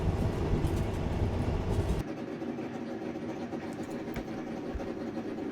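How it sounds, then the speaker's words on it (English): Simulated engine of an MC-15 Cri-Cri light aircraft in Microsoft Flight Simulator, a steady loud droning hum that drops abruptly to a lower, quieter idle-like rumble partway through, with no speech. "let's just listen to the sound of the engine here"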